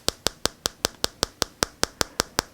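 Fingertip taps on the glass screen of a OnePlus 9 5G phone, twelve sharp, even clicks in a steady rhythm, close and fairly bright, with nothing else around them.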